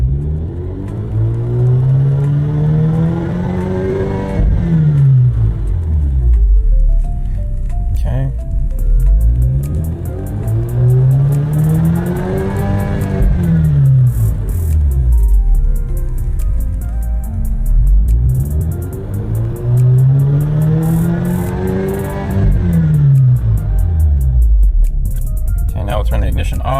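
An Alfa Romeo Giulia 2.0T engine with a Stage 2 tune revs hard three times in a row to 6,500 RPM, each rise climbing to a high whine before dropping back to idle, loud and close.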